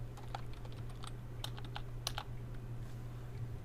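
Typing on a computer keyboard while writing a debug log for Android: scattered quick key clicks, close and fairly faint, over a steady electrical hum.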